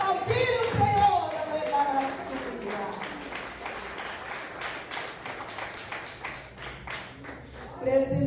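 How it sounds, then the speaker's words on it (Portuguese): A church congregation at a healing and deliverance service claps in a broad, sustained wash of applause, steady and fairly far off, with a preacher's voice speaking over the start and end. "pode aplaudir o Senhor."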